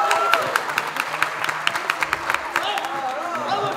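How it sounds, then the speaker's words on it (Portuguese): Audience clapping at a live band's dance show, rhythmic claps in time with music under cheering voices, fairly close and lively. "Palmas para a Suzy, muito bem."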